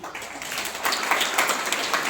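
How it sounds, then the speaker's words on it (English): A school assembly bursts into applause for a class winning a monthly discipline award, a steady wash of many hands clapping at close range throughout. "Please give a big round of applause."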